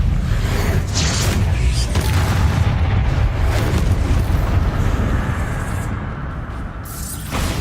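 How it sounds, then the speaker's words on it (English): Bombarda spell blast in Hogwarts Legacy, a loud booming explosion with rumbling debris and mechanical rattles that slowly fades, sustained and close. "Bombarda."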